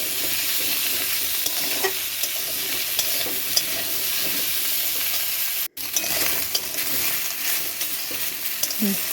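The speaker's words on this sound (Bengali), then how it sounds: "আমি এখানে মূলো কাটা নিয়ে নিয়েছি আর আলুগুলো নিয়ে নিয়েছি দিয়ে এগুলো ভালোভাবে ভেজে নেব" Cut radish and potato pieces fry in hot oil while being stirred, a steady close sizzle with scraping spatula strokes and one brief dropout midway.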